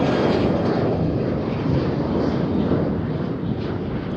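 Steady broadband roar of a passing airliner at Amsterdam Schiphol airport, loud and continuous throughout with no clear rise or fall.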